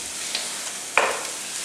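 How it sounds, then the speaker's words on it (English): Sausage sizzles steadily in a hot pan alongside bacon and onions, with a soft continuous fry broken by one clear scrape of a utensil breaking up the meat partway through. "you just want to keep breaking your sausage up until it gets completely browned and cooked"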